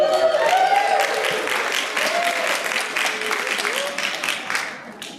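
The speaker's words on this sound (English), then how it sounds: "We're going to cheer on Mr. Edwards." An audience at a high school band concert claps loudly, steady applause that fades slightly toward the end, with a voice speaking over it.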